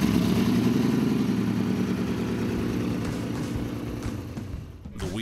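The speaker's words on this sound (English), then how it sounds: "the exhaust note coming out of this car is unbelievable." The throaty exhaust of the vintage Mormon Meteor race car burbles and rumbles loudly up close, pulsing unevenly before tapering off near the end.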